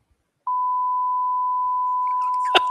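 A censor beep covers a word in a debate exchange: one loud, steady pure tone held for about two seconds, with a brief burst of muffled speech breaking through near the end.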